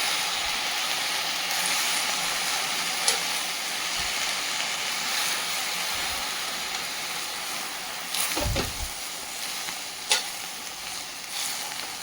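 Sedi pasalai keerai greens sautéing in a pan, a steady close sizzle with occasional scraping stirs and a louder clatter near the end.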